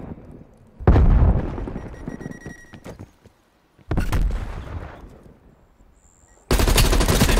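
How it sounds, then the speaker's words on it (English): Grenade blasts and gunfire in a Black Ops Cold War team deathmatch on the Slums map, with three loud, close bursts of booming explosions and rattling shots separated by quieter gaps. "Throwing grenade."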